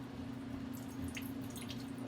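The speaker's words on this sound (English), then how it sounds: "Once the water boils, I'm just going to pour the hot water over it." Hot water poured over ackee in a strainer set in a bowl in the sink, a soft continuous trickle and patter of water with faint splashes, steady and fairly quiet, with no talk.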